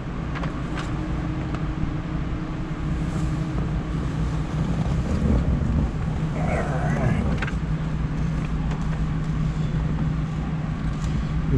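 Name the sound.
1960 Chevrolet Corvette engine starting and running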